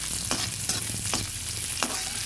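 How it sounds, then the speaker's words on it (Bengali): Onions fry in a pan with a constant sizzle and a few quick stirring scrapes from a utensil. The sound is close and steady, with no voices. "এই যেখানে পেঁয়াজ দিয়ে ভাজছি"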